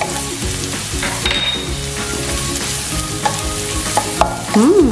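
Red onion and garlic fry in a pan with a steady, loud sizzle while a spatula stirs and scrapes through it. Occasional clinks of a utensil against the pan cut through near the end.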